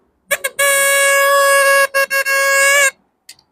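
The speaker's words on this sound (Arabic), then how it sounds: "هاي الزمارات، عندي زمارة كبيرة وعندي زمارة صغيرة" A big vehicle horn and a small one sound up close: two quick toots, then a long, loud, steady blare, followed by several short bursts and a faint final beep.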